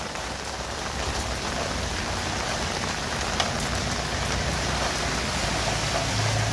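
A hard, steady downpour drums on streets and rooftops in downtown North Bay, a loud, even wash of rain noise with no one speaking.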